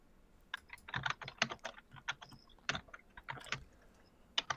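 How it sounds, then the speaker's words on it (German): Irregular clicking of keys on a computer keyboard during a talk, quick bursts of taps with short pauses, fairly close and moderately quiet, no voices. "irgendwer tippt da noch"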